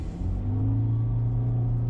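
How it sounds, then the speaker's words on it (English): A 2020 Toyota Prius LE AWD-e hybrid accelerates, its gas engine and two electric motors producing a steady low rumble and whir that builds slightly and holds loud throughout, with no talking. "let's go ahead and give it a little bit of an acceleration run here"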